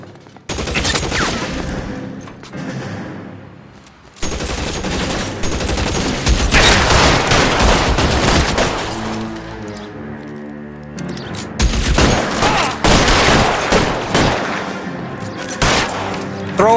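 A loud, chaotic gunfight from the video game LA Noire, set in 1940s Los Angeles, brings dense volleys of gunshots with booms and crashes, dropping briefly and then flaring up again.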